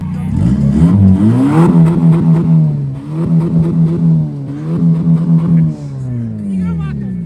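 A Nissan Patrol engine revs loudly and close in a series of rising and falling surges, each climbing in pitch and then settling back to a steady drone.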